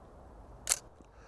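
A single crisp camera shutter click fires once from a camera with a 50mm f1.2 lens, sharp and close against quiet room hiss.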